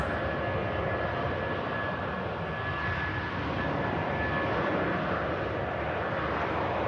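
A British Airways Boeing 747 jet departing Manchester Airport makes a loud, steady roar of aircraft engines that holds without a break, heard at a distance with no voices over it.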